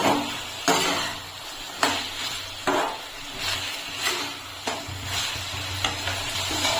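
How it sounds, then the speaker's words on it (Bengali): Boiled pasta and chopped green chilli stirred in a hot pan, a steady sizzle broken by a regular run of spatula scrapes and knocks against the pan, close and with no talk. "সেদ্ধ করে রাখা পাস্তাটা দিয়ে দিচ্ছি, নেড়ে নেব"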